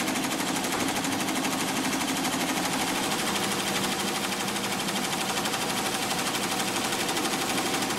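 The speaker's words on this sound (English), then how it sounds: "Next, let the machine resume with the satin stitch." An embroidery machine sews a satin stitch on a garment, a steady rapid needle hammering that runs continuously at even loudness without pauses or talk.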